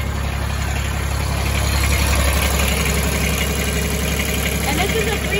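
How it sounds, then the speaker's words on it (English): A New Holland tractor's three-cylinder Kubota DB72 diesel engine idles nearby, a steady low throbbing rumble with a faint rhythmic knock that continues without a break. "this is a three-cylinder Kubota diesel, a DB72 three-cylinder Kubota diesel."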